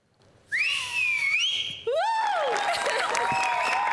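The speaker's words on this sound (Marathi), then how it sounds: "पहिली शिट्टी तुमच्यासाठी." On the stage of a Marathi comedy show, a shrill whistle rings out in two long, wavering blasts, the second rising over a burst of crowd noise that carries on beneath it.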